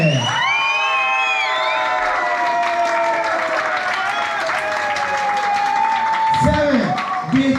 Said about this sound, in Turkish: Biggest applause, applaudissements, alkış for Elvin.